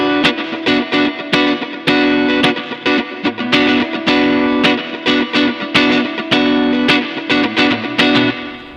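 Two distorted electric guitars run through a Zoom multi-effects processor and panned left and right, without the DT effect, play choppy palm-muted chugs and sharp chord stabs in a steady driving rhythm, loud and close with no talking.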